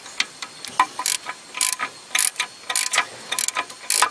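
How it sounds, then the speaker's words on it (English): A small ratchet wrench loosens a bolt while a front spring is replaced on a 1996–2007 Toyota Corolla, giving a rapid, close series of sharp metallic clicks in uneven bursts. "I can start to use my small wrench"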